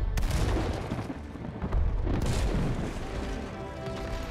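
Cannons boom and explode in a pirate-boat battle in the video game It Takes Two, a cluster of loud, rumbling blasts with heavy low-end that rolls on and slowly settles.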